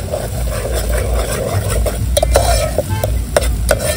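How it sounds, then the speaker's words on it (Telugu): Ginger paste fries in a hot pan for a chicken fry, sizzling steadily while a spoon scrapes and stirs in repeated sharp strokes, close and loud with no talking. "అల్లం పేస్ట్ వేసినాము."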